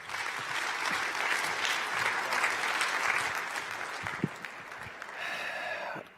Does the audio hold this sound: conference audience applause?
yes